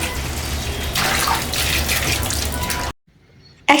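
Water splashes and runs over cut pabda fish being washed in a Bengali kitchen, a steady rushing stream that grows louder partway through, then stops abruptly before a brief final splash.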